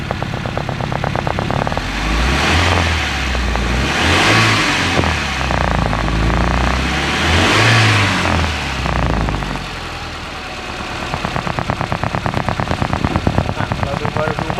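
A Suzuki Carry pickup truck engine idles steadily with the air conditioning on, a faint rhythmic chug, its pitch rising and falling a few times while someone talks over it.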